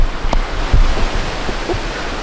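Camping gas stove roaring steadily while heating water on a rainy road trip in Switzerland, a loud, close, continuous hiss with a few small knocks and no voices.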